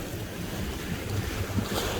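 Wind gusts and waves wash steadily at a fishing pier in Bal Harbour, Miami, with a constant roar and microphone wind buffeting throughout, with no talk.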